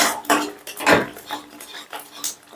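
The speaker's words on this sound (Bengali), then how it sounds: "চিনিটাও বেশ ভালো করে মিশিয়ে দিলাম।" A utensil scrapes and clinks against a pan while sugar is stirred into chicken bharta, making a few irregular metallic strokes close by, with faint talk in the background.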